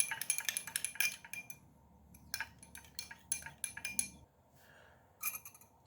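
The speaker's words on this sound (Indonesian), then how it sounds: "Lalu diaduk-aduk." Salt being stirred into a traditional homemade cough remedy in a glass: a run of quick, bright clinks from a spoon against the glass, in bursts with short pauses, close and fairly quiet, with no talking.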